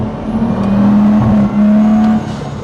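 A BMW 435i pulling hard in third gear, its engine holding a loud, steady droning note that dips briefly midway, as if shifting or lifting, before surging again, close and dominant throughout.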